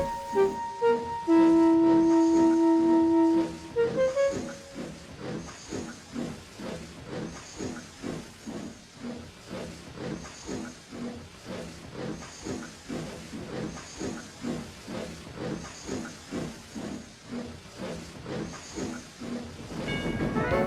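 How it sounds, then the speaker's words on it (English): A steam locomotive chuffs in a steady rhythmic beat after a sustained whistle blast, puffing and hissing as it pulls away and builds pace. "as the guard blew his whistle, Peter puffed away"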